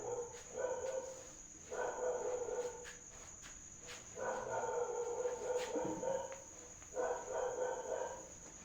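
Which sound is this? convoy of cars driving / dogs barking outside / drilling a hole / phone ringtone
dogs barking outside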